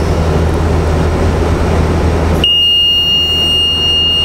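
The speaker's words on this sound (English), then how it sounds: "going to sound an alarm to indicate that the recipe is starting" A steady, piercing electronic alarm tone from an EasyTube 3000 nano furnace signals a recipe starting, beginning abruptly and holding continuously, loud and alone after a low rumbling hum cuts out.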